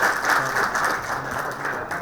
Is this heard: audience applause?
yes